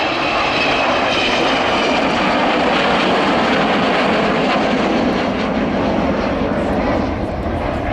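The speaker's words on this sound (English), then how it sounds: "see and feel and hear the power of the four Rolls-Royce Bristol Olympus 201 engines" An Avro Vulcan bomber flies past at an air display, its four Rolls-Royce Bristol Olympus 201 engines producing a loud, steady, broadband roar that holds for the whole stretch.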